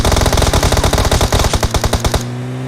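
Sustained automatic gunfire in the mobile battle-royale shooter PUBG Mobile, a loud rapid rattling burst of closely spaced shots lasting about two seconds, then stopping abruptly.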